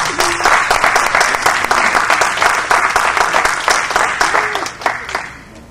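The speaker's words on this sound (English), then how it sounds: "you all need to continue those applause to Joe" A crowd applauds at an accessibility awareness event, with lively, dense clapping and a few sharp individual claps standing out, fading toward the end.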